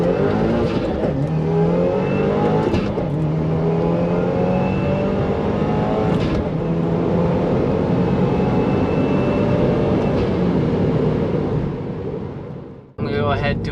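A flex-fuel tuned Subaru WRX on a dyno pulls at full throttle from about 3,500 rpm, its engine roaring loud and close with a rising pitch for about twelve seconds before cutting off abruptly.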